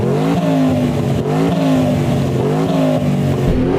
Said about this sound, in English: Matt, let's have a listen to your car with turbochargers and stuff